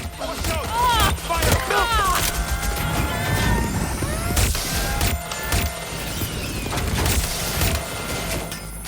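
Dense gunfire from the game Watch Dogs Legion crackles through an ongoing loud action scene, with bursts, impacts and whooshing effects layered continuously. No one talks.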